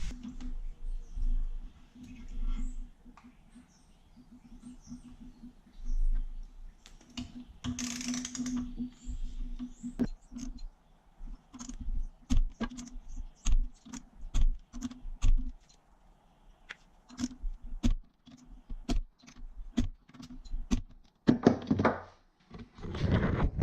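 A torque wrench tightens the bolts on a billet connecting rod during an engine rebuild, giving close, sparse sharp clicks and dull thunks against quiet workshop background noise.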